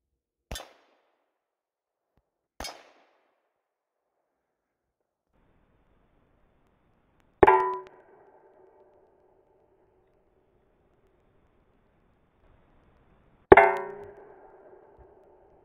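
Two pistol shots from a 1911 strike a bare steel plate, each ringing out as a sharp metallic clang with a short decaying tone, following two faint clicks in an otherwise quiet setting.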